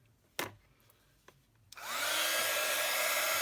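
A hair dryer switches on after a few knocks and runs loud and steady, drying wet paint on an ornate splat-technique piece, its broadband whoosh holding to the end.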